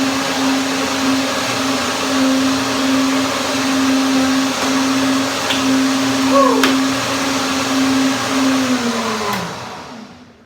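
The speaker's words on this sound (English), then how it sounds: "Okay, blend it again." A blender whirs steadily as it blends a basil, blueberry and orange smoothie with ice, a loud near hum holding for several seconds, then winding down and stopping.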